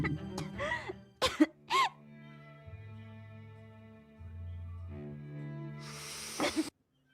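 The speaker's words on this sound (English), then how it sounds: "That actually felt like she like coughed up some blood there." A character in a Minecraft mermaid story coughs up blood: a few short, rough coughing and throat-clearing bursts in the first seconds, then a longer wet, hissing splutter near the end over a quiet musical background.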